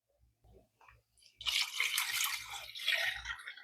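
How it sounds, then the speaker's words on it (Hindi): Water is poured into a cooking pot for chicken corn soup, a steady splashing pour starting faintly and building to a loud, continuous stream that runs for a couple of seconds. "हम 4 गिलास पानी डालेंगे इसमें।"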